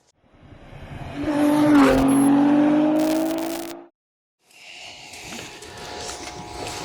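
A Porsche 944 S2 engine revs up loudly with a rising whine, holds high, then cuts off abruptly. After a brief silence a quieter, steady running sound follows.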